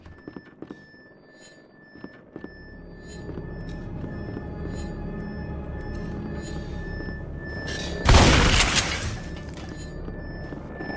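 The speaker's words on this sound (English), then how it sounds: "Handmade shotgun, destroying whatever you are!" A handmade shotgun in a Garry's Mod recreation of Resident Evil 2 lets off one loud, broadband blast that rings out briefly and fades over steady game background noise.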